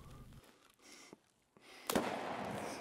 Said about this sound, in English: As we search, we get shot at by a scav from the tower.